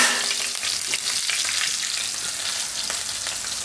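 Green chillies and asafoetida sizzling in hot oil for Gujarati sweet kadhi, a dense, even crackling sizzle at moderate level throughout with no voices.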